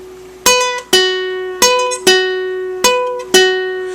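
Electric guitar double string bends, two strings pushed up together, six notes in all plucked one after another, each ringing with a steady pitch before the next, clear and close with no talking.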